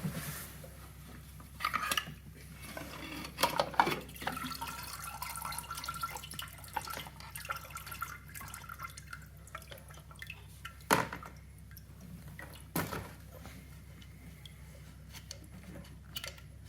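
Liquid drips and splashes come as a carburetor is lifted out of a container of chemical dip, with scattered sharp taps and dribbles over a quiet background.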